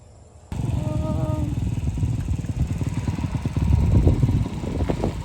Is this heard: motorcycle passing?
yes